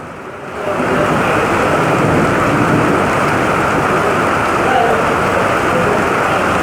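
Heavy downpour during a storm in Egypt, a dense steady roar of rain hammering surfaces, loud and continuous after a slightly quieter first half-second, with no voices.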